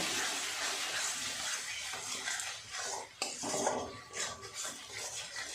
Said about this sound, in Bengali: খুব ভালো করে মশলাটাকে কষিয়ে নেব